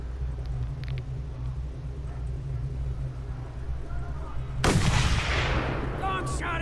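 Gunfire erupts in the Mad Max video game, a sudden loud burst of shots tearing over a steady low rumble of engine and wind, with the blast's sharp crack followed by a decaying spray of debris.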